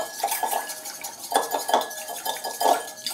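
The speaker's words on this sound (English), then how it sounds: "Whisk that up with a little extra virgin olive oil." Salad dressing of salt and extra virgin olive oil whisked in a bowl, giving quick bursts of clinking, scraping utensil strokes in an uneven rhythm, close and fairly loud, with no talking.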